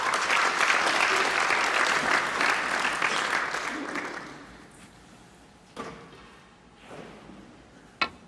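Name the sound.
snooker crowd applause from the next table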